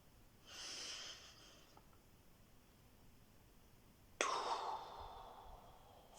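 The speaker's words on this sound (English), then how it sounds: "Release the out breath." Two soft, slow breaths are released in a quiet room, the first a gentle airy exhale and the second a longer, slightly fuller sigh-like outbreath that tapers away.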